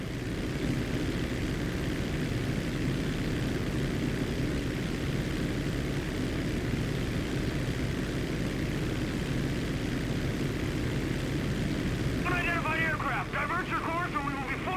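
A 1989 crop duster's propeller engine drones steadily and close in the GTA 5 game, a continuous buzzing hum with radio-style chatter breaking in near the end.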